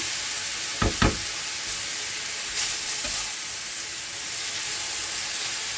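Grated zucchini hits hot mustard oil tempered with nigella seeds, dried red chilli and bay leaf, sizzling in a continuous hiss with a couple of sharp clanks from the pan early on and a softer knock later.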